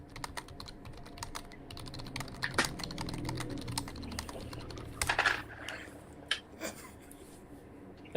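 Quiet, quick tapping of keys on a computer keyboard, irregular bursts of clicks with a few louder key strikes, heard alone in a calm room.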